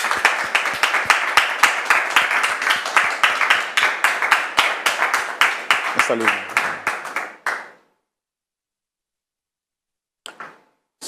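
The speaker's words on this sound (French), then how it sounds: "Merci public de la recevoir avec vos applaudissements" Studio audience applause welcoming a guest onto a television talk show set, rhythmic and fairly close clapping that fades out abruptly, followed by silence and a brief voice.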